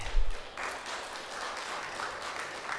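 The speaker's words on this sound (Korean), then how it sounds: "우리 박수로 한번 환영합시다" Steady applause from a church congregation welcoming a newcomer at a Korean Presbyterian Sunday service in Calgary, a continuous patter of many hands filling the room for a few seconds.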